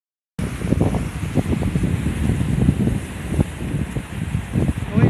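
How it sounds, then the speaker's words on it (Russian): Wind blows through a street in Kaleiçi, Turkey, a close steady rushing and buffeting against the microphone with gusts, while people talk beneath it. "Ой, ветер такой."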